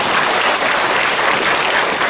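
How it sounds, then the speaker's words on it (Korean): A church congregation at Incheon Onnuri Methodist Church applauds loudly and densely in a continuous, even roar of clapping with no talk. "우리 주님께 영광의 박수 드리겠습니다."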